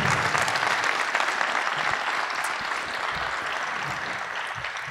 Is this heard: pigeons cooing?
no